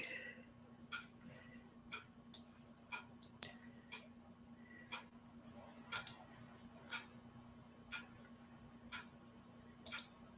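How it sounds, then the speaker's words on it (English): A mysterious ticking noise: sharp, isolated clicks spaced roughly a second apart, some in quick pairs, over a steady low electrical hum, heard alone with no talk. "The mysterious ticking noise."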